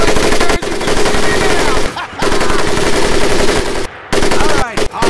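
Close, loud automatic gunfire rattles at a firing range in the World War II video game Medal of Honor: Pacific Assault, long continuous bursts cut by a few brief pauses, with shouted game voices faintly mixed in.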